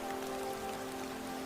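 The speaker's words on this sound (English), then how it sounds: "Listen, the rain whispers and the world drifts away." Steady rain patters against the glass of a train window, a dense even hiss with a constant low hum running underneath, no voices.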